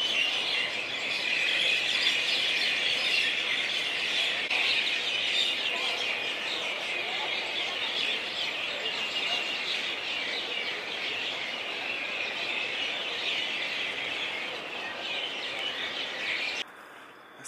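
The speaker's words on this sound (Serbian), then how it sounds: "Čujete li ove ptice, ljudi?" Outdoors at the Marriott Dead Sea resort in Jordan, a dense chorus of small birds chirps and twitters continuously at moderate volume. No one speaks over it.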